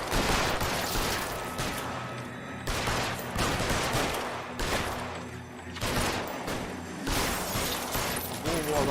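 Gunfire from a shootout in the video game L.A. Noire, repeated loud volleys of shots in dense bursts with short gaps, layered with game sound.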